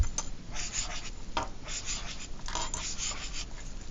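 Pen scratching calligraphy letters on paper, close and quiet, with short strokes and brief pauses in an uneven rhythm.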